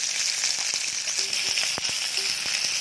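Barramundi fillets fry in a pan, a steady bright sizzle with scattered pops and crackles, close and continuous, no one speaking.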